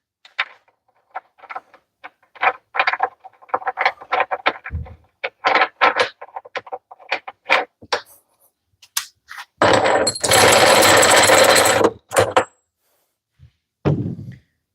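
A DeWalt DCF892 mid-torque impact wrench rattles in sharp short bursts, then hammers in a loud sustained run of about two seconds and gives one last brief burst. It sounds close, with quiet gaps between the bursts.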